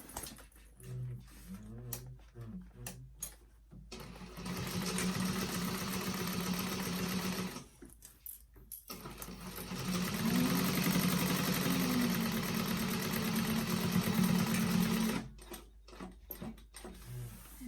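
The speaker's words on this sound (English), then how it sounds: "And top stitch it shut." A sewing machine top stitching a tote bag pocket shut, with two sustained motor runs of rapid needle chatter and handling clicks between and around them.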